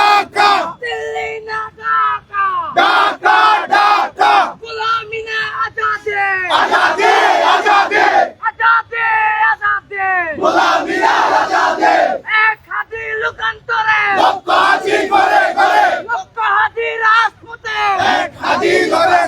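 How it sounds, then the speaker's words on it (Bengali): Protest crowd chanting slogans in unison at a road blockade in Cox's Bazar, loud rhythmic call-and-response shouting repeated in bursts, close and continuous. "ইতিমধ্যে স্লোগান দেওয়া হচ্ছে এবং দেখতে পাচ্ছেন এখানে জুলাই গণঅভ্যুত্থানের যে নেতাকর্মী যারা আছে তারা এখানে বিভিন্ন স্লোগান দিচ্ছে।"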